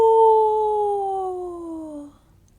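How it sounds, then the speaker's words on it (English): A single long, werewolf-like howl at the moon, holding a steady tone that slowly slides downward for about two seconds before cutting off. "And they shared one last howl"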